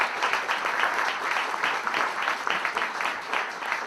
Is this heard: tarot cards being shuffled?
no